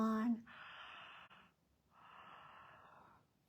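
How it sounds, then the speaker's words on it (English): Two long breathy yawns come from a person in a children's bedtime song, each a drawn-out airy exhale lasting about a second, close and fairly soft, following a short sung note. "Yawn your sleepies out"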